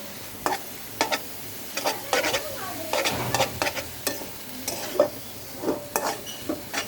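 Drumstick leaf lentil fritters fry in a pan with a low steady sizzle, broken by repeated scraping and clinking stirs of a utensil against the pan, close and moderately loud.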